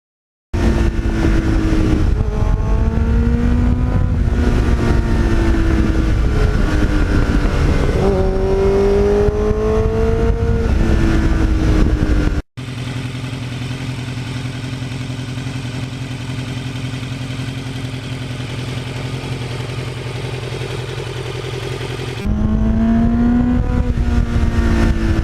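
A Kawasaki Ninja motorcycle with a Muzzy exhaust revs hard and close, loud rising and falling engine howls, then a steadier droning stretch before the revving returns, with no talking.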